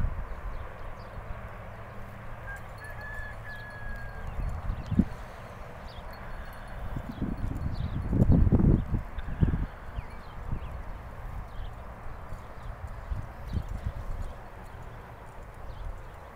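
Horse hoofbeats at a lope come through as soft, rhythmic thuds, swelling loudest around the middle as the horse passes nearer, then fading over steady outdoor ambience with no talk.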